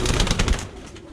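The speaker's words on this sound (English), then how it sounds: "Perfect homing pigeon." A young bronze-barred homing pigeon coos in a short, close burst that fades quickly into soft background noise.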